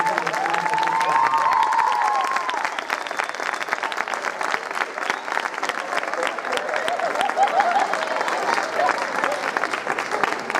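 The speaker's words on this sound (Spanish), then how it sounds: "Un fuerte aplauso para el delegado Francisco Pastor Ruiz." Sustained applause from an audience at a school graduation ceremony, steady dense clapping lasting throughout, with a voice speaking over it at the start.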